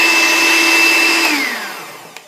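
An electric hand mixer whisks egg whites with cream of tartar for French macarons, giving a steady loud whine that drops in pitch and fades near the end, with a small clack just after.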